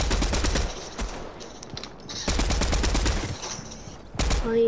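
Rapid pistol gunfire in Fortnite, bursts of quick sharp shots in close succession, a pause, then another long run of shots and a final short burst, loud and near with no talk.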